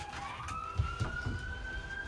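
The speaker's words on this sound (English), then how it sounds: "and now we've got a siren." A siren wails in the distance, its rising tone sweeping slowly upward, with a few dull thumps nearby.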